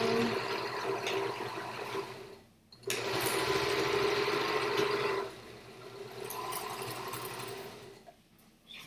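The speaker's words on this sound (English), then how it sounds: "I'm done with this serger, so I can go away from that." Serger sewing machine stitching a fabric bag, rapid mechanical whirring in close bursts with short pauses between runs, no talking.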